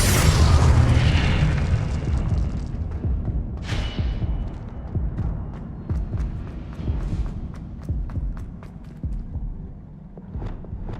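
A Confringo explosion spell cast in the video game Hogwarts Legacy bursts into a loud, deep boom, then fades into a rumbling tail with scattered crackles and small pops.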